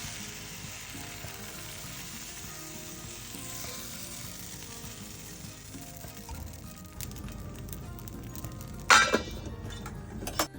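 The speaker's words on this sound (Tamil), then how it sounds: "இந்த மாதிரி நீங்கள் வந்து மாவு ஊற்றும் போது சவுண்டு கேட்கும்" Appam batter meets a hot pan with a faint, steady sizzle, followed near the end by a brief clink of metal or glass against the cookware.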